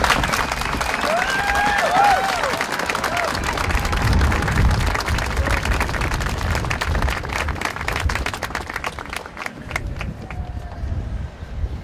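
Outdoor crowd applause at a vigil in a park, dense clapping that swells and then thins into scattered claps, with a few cheers and faint voices underneath.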